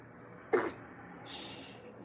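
One short, sharp sneeze bursts out against a low background hum, followed by a soft hiss.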